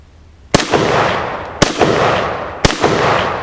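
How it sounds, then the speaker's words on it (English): A 1953 Tula Armory SKS rifle fires Tula Armory ammunition at a paint target outdoors, three loud sharp shots about a second apart, each with a long rolling echo tail, no talking. "up next with this Tula Armory ammunition out of this Tula Armory SKS, we're gonna hit the paint thing"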